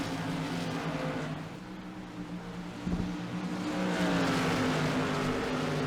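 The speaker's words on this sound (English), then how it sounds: "Cars roll smoothly through 1 and 2, still mostly 2x2." Race cars roll around the Five Flags Speedway track in the 2020 Extra Life 300, still mostly running two by two, producing a steady blended engine drone at moderate distance that swells slightly toward the end.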